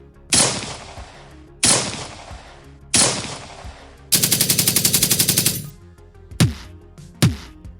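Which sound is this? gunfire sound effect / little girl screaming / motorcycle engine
gunfire sound effect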